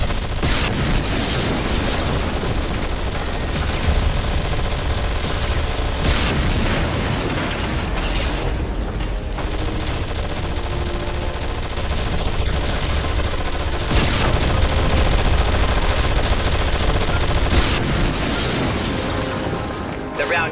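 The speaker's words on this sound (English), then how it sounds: "keep your squad firing" Squad weapons in the Anomaly 2 video game fire almost nonstop, a dense, loud barrage of gunfire bursts, booms and explosions running through the whole stretch with brief lulls.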